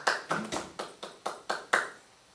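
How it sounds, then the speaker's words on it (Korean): Congregation clapping during a church worship service: about eight sharp, evenly spaced claps in a quick steady rhythm, fairly close and with no talk. "우리 하나님께 영광의 박수를 올려드리겠습니다."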